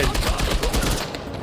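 Shotgun blasts in Uncharted 4, a dense, loud crackle of shots packed into a brief moment, fading out at the end.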